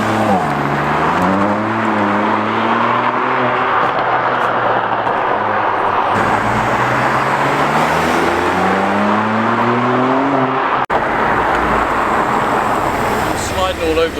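A loud Audi TT RS with a sports exhaust roars continuously, its engine note rising and falling through revs as it accelerates and shifts, dominating the recording with a brief break near the end.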